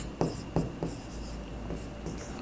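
Pen writing an entry on paper, close and quiet, a few distinct scratchy strokes at first, then continuous light scribbling against a low background hum.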